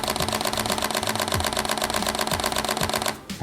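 A Sony Alpha A6400 fires a rapid continuous burst of shutter clicks at 11 frames per second, evenly spaced and close, running for about three seconds before stopping abruptly.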